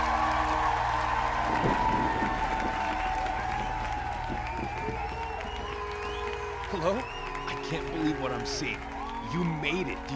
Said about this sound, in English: All these people are cheering for me.